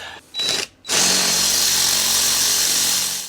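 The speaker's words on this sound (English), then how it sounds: "So I'm going to have to drill that one too" Power drill boring out a seized bolt while removing bearing plates on a Monaco Dynasty motorhome's P7100 injection pump, a short burst then a steady, loud grinding whine close by.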